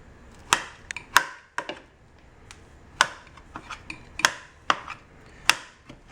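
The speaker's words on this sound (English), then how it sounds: "Now, I just slice it." A knife slices through food and strikes a cutting board in a string of sharp, separate chops, about eight over six seconds at an uneven pace, close and clear with no voice.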